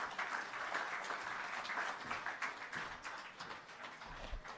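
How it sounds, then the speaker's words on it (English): Steady audience applause for the Prime Minister at a post-Hurricane Melissa shelter recovery programme event, a dense continuous wash of many hands clapping at moderate distance, holding level for several seconds before thinning slightly toward the end. "Another round of applause for our Prime Minister, ladies and gentlemen"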